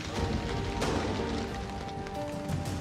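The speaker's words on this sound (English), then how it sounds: "Rain's back." Rain pattering steadily on a tarp shelter built with rope and branches in the jungle, a dense, even hiss with scattered drops close by. No voices are heard.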